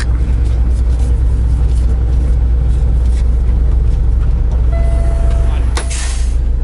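A started semi truck engine idles with a loud, steady low rumble and diesel throb throughout, a brief hiss near the end.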